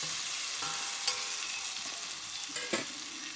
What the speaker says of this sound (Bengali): এবার দিয়ে দেবো ভেজে রাখা পটল আর আলু